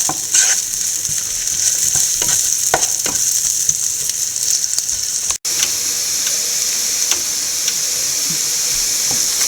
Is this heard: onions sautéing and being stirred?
yes